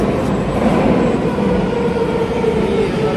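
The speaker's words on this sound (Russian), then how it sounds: "Сейчас подъезжает поезд." Steady loud rumble of a subway train rolling in, continuous low roar with rail noise and no pauses.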